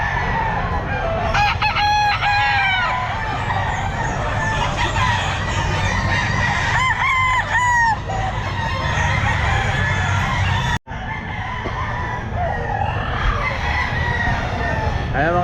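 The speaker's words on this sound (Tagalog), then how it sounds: "Ang daming manok, oh" Several roosters crow repeatedly amid steady clucking from a flock of chickens, loud and close, with a brief dropout near the end.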